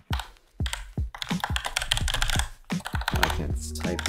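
Fast, uneven typing on a computer keyboard, close and crisp, keystrokes clattering in quick bursts with short pauses.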